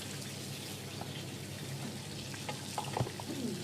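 A parmesan white sauce reduces in a pan with a soft, steady bubbling sizzle and a few small pops and stirring taps near the end, fairly quiet and without talk.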